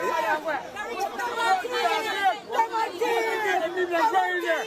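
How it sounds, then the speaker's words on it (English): A crowd of people chatters all at once, with many overlapping voices forming a continuous, fairly close babble. "Look at the crowd behind the man now."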